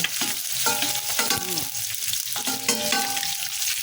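Ingredients for sinigang sa miso sautéing in hot oil, a loud continuous sizzle and crackle close up, with stirring scrapes mixed through it.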